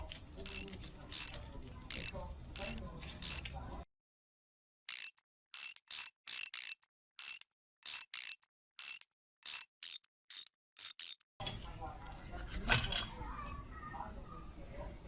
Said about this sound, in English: Now we've got to remove all these screws and get the top cover off.